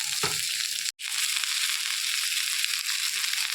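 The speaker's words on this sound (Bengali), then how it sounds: "এবারে এর মধ্যে দিয়ে দেবো কেটে রাখা আলু আর সজনে ডাটা" Chopped potatoes and drumstick pieces go into a hot frying pan, giving a steady broadband sizzle with a brief clatter near the start and a short dropout, no talk.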